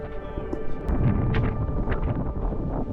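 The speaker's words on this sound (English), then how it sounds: "the wind was going to be a constant battle" Strong wind buffets the microphone on an exposed hiking trail in the Budawangs, in a steady, loud low roar with gusty fluctuations throughout.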